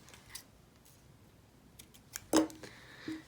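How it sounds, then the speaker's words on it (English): Scissors cut a beading thread tail while a seashell beaded earring is being made. A few faint, close ticks lead to one sharper snip near the end, in an otherwise quiet room. "make sure to cut the one that you just made a loop with"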